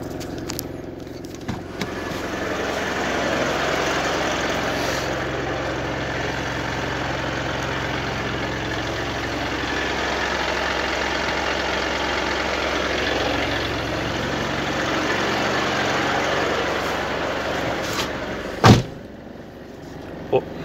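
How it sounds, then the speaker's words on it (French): A 1994 Mitsubishi Pajero 2.5 turbo diesel engine idles steadily after starting, a continuous low rumble close by, with a brief clunk near the end. "un moteur diesel, toujours on le démarre en appuyant sur la pédale d'embrayage"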